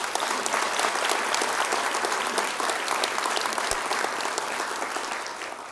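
A ceremony crowd claps continuously at an awards event, a thick, even wash of applause that holds steady throughout with no voices over it.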